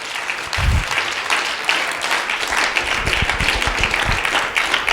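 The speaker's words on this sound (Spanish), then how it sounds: "Fuerte el aplauso a la gloria de Dios." A church congregation applauds, a dense sustained wash of clapping from a large crowd filling the room evenly, with a few louder nearby claps and no speech over it.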